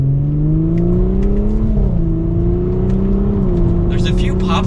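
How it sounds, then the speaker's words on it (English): A 2023 Audi S5 Sportback in dynamic mode accelerates with a loud, steady engine drone that climbs in pitch, then a few faint crackling exhaust pops near the end, heard from inside the car. "There's a few pops in that exhaust"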